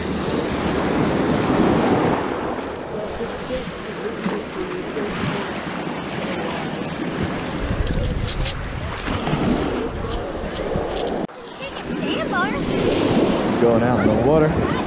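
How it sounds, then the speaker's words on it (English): Ocean surf at Venice Beach washes in steadily with heavy wind buffeting the microphone, the roar holding nearly constant apart from a brief dip near the end. "There's not much waves here."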